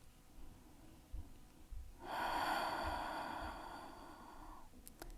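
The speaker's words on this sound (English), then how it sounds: "Let's take 2 more breaths." One long, deep yoga breath, a slow drawn-out airy inhale or exhale lasting a couple of seconds. It is quiet and close, with faint room hush before and after.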